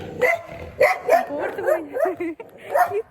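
A dog barks and yips several times in quick succession, close by, with some whimpering mixed in.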